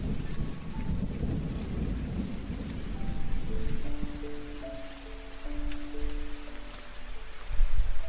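Heavy rain pours steadily while low thunder rumbles through it, with a louder roll near the end, a stormy sound-effect bed with faint tonal music notes drifting in midway and no voices.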